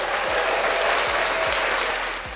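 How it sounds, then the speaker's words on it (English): Audience applause rising after a call to cheer at a live talk-show event, a dense steady roar of many clapping hands that holds strong throughout and eases slightly at the end, with no talking over it. "Give them a round of applause."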